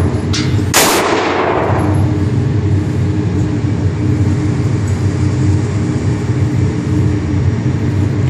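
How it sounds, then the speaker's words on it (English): A single sharp report from a Ruger Mark III Standard pistol with a tapered 4.75-inch barrel cracks near the start, followed by a steady loud background rumble of wind or outdoor noise. "This is the very first round out of the pistol."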